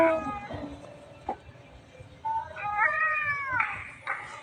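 A cat meows repeatedly, drawn-out wavering cries close by, the last ones longer and more insistent, with faint background noise.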